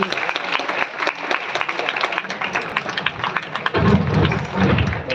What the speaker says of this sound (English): give her a very big round of applause